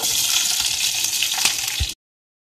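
Green chili, ginger and garlic hit hot oil in a pan for a Tamil carrot and beans gravy, giving a loud, dense sizzling hiss that cuts off abruptly after about two seconds.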